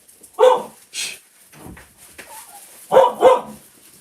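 Dogs barking close by in a quiet room, a few sharp barks in two short bursts with brief whimpering between them.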